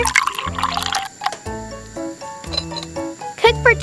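Water splashes and trickles into a miniature pan in a tiny kitchen, with a few short bursts of pouring and dripping, close and fairly loud, broken by brief pauses.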